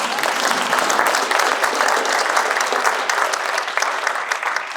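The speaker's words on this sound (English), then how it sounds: "can we just clap for ourselves?" A large crowd at a generosity celebration night applauding themselves, a full, sustained roar of many hands clapping at once, steady and loud for several seconds.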